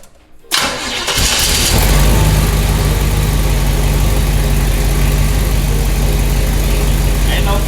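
Engine of a 1962 Chevy Impala catches after a brief start and settles into a loud, steady, rumbling idle that runs without stalling to the end.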